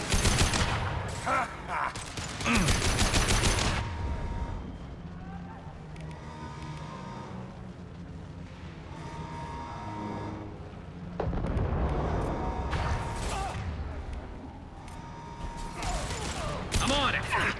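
Bursts of loud gunfire and impact shots in the Mass Effect 2 game, with heavy firing at the start and end and quieter combat noise between, under short shouted voices.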